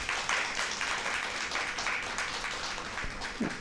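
Studio audience applause on a televised health show, a dense continuous wash of clapping at moderate level, fairly even throughout with a brief low thump near the end.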